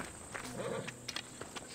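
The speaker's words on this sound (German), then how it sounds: "Pferde haben wir hier." Horse hooves in Assassin's Creed Odyssey: a short run of hoof clops, close and fairly clear, over a steady background hum.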